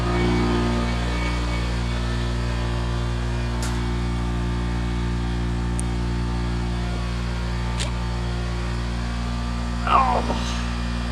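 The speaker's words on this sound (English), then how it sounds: "Gotta love the old air compressor." An old air compressor drones steadily in a shop during a 1991 Blazer front-end teardown, a loud constant hum with a few faint clinks over it.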